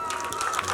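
A crowd applauds at a school annual function for young students, a short burst of dense clapping heard alone.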